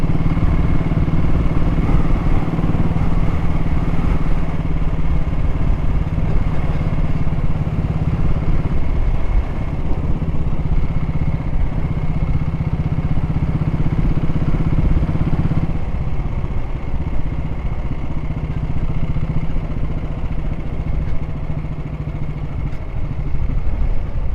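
Vintage motorcycle engines running steadily nearby, a loud low throbbing drone with a slight shift in pitch partway through, continuous and without voices.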